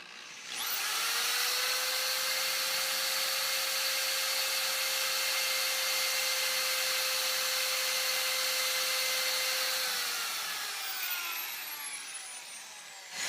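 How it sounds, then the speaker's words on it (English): A power drill whines steadily at high speed for about ten seconds, shaving off the head of a metal rivet on an Airstream trailer, then spins down and stops. "you start the drill, and then you push the drill in, and it'll start shaving the rivet."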